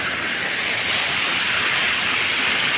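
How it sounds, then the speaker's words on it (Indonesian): Steady broadband rush of falling water beneath Kokoi waterfall, with a dense, continuous hiss close by and no voices over it. "Ini di bawah air terjun Kokoy ya"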